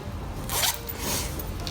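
A sewing zipper is pulled open in a quick, soft zip lasting about a second, close and faint, with no talking.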